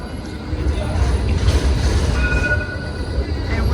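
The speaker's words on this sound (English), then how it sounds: "there are a lot of trams going up and down the street" A tram rolls along a busy Melbourne city street, its rumbling and faint wheel squeal steady and fairly close, mixed with street noise.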